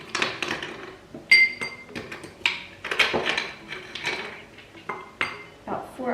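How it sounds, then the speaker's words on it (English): Ice cubes are dropped into a glass for a Greek frappé coffee drink, giving a series of sharp, close clinks and knocks spread irregularly through the clip, alone without talk. "Now what we're gonna do is add a few ice cubes directly into our glass."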